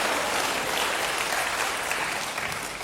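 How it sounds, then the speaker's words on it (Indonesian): A church congregation applauds, producing a thick, even roar of many hands clapping together that holds steady at moderate volume for nearly three seconds, with no voices standing out. "Berikan tepuk tangan bagi Tuhan."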